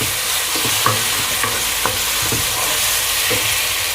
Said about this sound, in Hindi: अभी इसमें मैं ऐड करूंगा जी अदरक लहसुन का पेस्ट, और इसको थोड़ा मिलाने के बाद